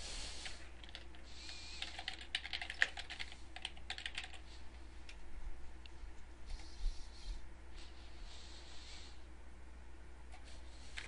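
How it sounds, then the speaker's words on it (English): Typing a note on a computer keyboard in scheduling software, faint light key taps in scattered short runs over a steady low hum, no talking. "you can always type in a note."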